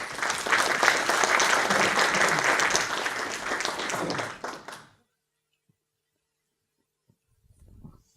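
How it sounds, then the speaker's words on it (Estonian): A seminar audience applauds steadily and loudly for about five seconds after a talk, then the clapping stops abruptly, leaving near silence with faint shuffling at the end. "teeme kõigepealt aplausi."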